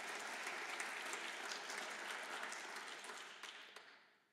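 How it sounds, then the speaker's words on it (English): Warm audience applause for Ontario minister Stan Cho at an arts event, dense steady clapping that gradually fades out toward the end. "I got to tell you how nice that clap feels"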